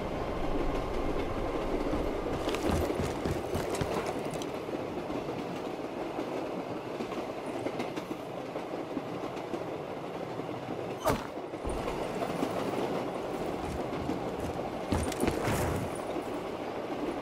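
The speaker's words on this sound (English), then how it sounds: "Let's get this train moving!" A train rolls along in the Shadows of Evil zombies mode of the video game Black Ops III, with a continuous rumble and a rhythmic clickety-clack of the wheels. Sharper metallic clanks stand out twice along the way.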